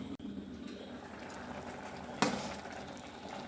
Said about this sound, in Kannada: ಕುದಿಲಿಕ್ಕೆ ಶುರುವಾಗಿದೆ